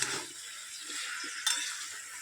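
Spinach and vegetable curry with coriander leaves is stirred in a pan, making a steady sizzle with soft scraping strokes and a brief clink partway through, close and unaccompanied.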